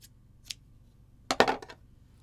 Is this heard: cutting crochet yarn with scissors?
yes